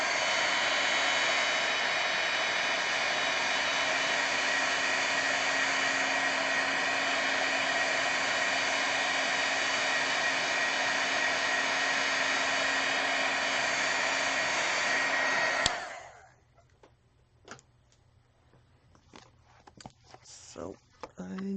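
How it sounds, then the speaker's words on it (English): Heat gun blowing steadily on a stamped swatch, a loud, close, continuous whooshing roar that cuts off abruptly, leaving quiet handling noises afterward. "I'm going to hit this last one with the heat gun and then set it aside"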